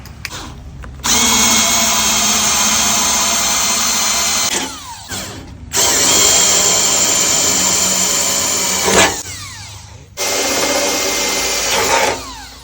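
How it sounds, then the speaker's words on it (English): A power drill bores three holes into a storefront glass door frame, three loud whining bursts of a few seconds each, separated by short pauses. "I'm going to put 3 holes kind of close to this frame seal"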